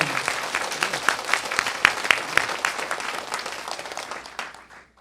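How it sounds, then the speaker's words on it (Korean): A church congregation claps to give glory on Easter Sunday. A hall full of close, lively applause carries a few sharp individual claps, then tapers off and fades out near the end. "부활의 주님께 영광의 박수를 올려드리겠습니다"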